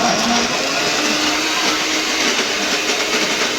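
A loud, steady motorized whirring from a kitchen mixer grinder running at full speed drones throughout.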